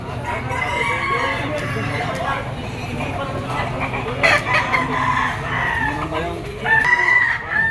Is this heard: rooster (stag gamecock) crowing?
yes